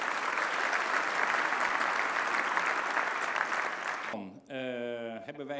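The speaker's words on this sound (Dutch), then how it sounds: "Geef hem een applaus, Erik." An audience applauds at a business event, with a dense, sustained burst of clapping for about four seconds that then cuts off abruptly, followed by a short tonal musical sting.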